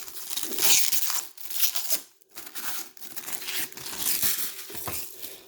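Protective film being peeled off a silver-edged Google Pixel 6 phone case, loud close crinkling and tearing in bursts with a brief pause midway, no voices.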